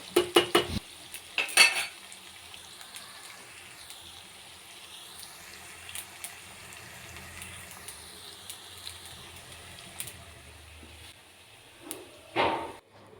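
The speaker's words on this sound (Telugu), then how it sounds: "కాకరకాయలు అయితే ఇంకా అయితే వేగాలి" Bitter gourd pieces roasting in a pan are stirred with a utensil: sharp metallic clanks and scrapes open the scene, a faint quiet sizzle follows, then another burst of clattering stirring near the end, with no talk.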